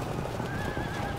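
Cavalry horses in the video game Field of Glory II, a horse neighing loudly over steady clip-clopping hooves and a continuous battle din, close and unbroken throughout.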